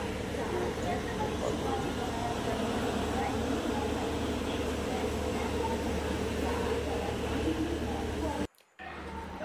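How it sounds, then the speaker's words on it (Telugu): A steady low rumble and rattle of a moving train at Secunderabad railway station fills the whole stretch, loud and continuous, then cuts out briefly near the end. "ప్రజెంట్ నా ట్రైన్ అయితే రన్ అవుతుంది."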